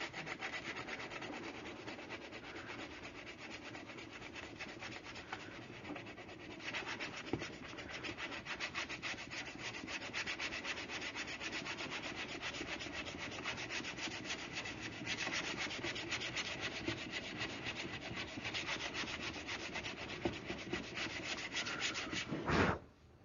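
A sanding block is rubbed by hand across an auto body fender in continuous rhythmic strokes, a close, steady scratchy rasp with no talk.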